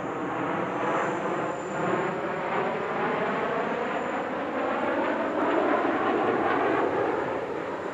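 Russian Knights aerobatic team jets perform at the Dubai Airshow, giving off a steady, continuous roar layered with a high tonal whine that holds at an even level throughout.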